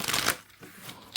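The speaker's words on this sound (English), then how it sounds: "Let's shuffle." Tarot cards being shuffled by hand, a dense papery riffle burst at the start followed by quieter rustling and a final flick, close and alone.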